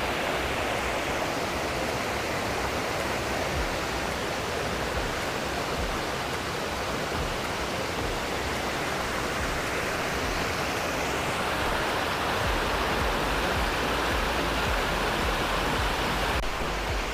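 A waterfall and a flowing stream at a mountain resort in Tago, Surigao del Sur, make a steady, dense rush of water, loud and unbroken throughout, with no voices.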